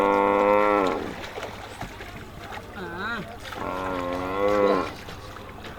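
A water buffalo gives long, drawn-out moos, two loud calls with a shorter bellow between them, over a background of outdoor noise.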